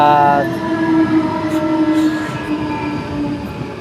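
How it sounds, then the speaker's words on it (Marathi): Loud rumble and metallic squeal of a train pulling in close by, with a tonal horn-like whine fading over a few seconds. "ट्रेन आली"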